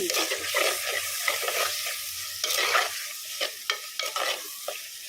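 Ginger garlic paste frying in oil, a steady close sizzle with bubbling crackle and a series of brief stirring scrapes toward the end, no speech.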